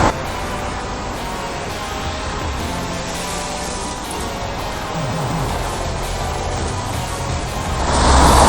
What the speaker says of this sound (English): the sounds of all these cars probably would have drowned out the sound of my voice